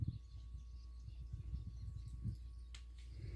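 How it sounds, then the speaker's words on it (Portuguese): Birds chirping faintly around a rural smallholding in the backcountry of Brazil's northeast, short scattered calls over a low rumble of wind or distant noise. "Olha os passarinhos cantando, ó."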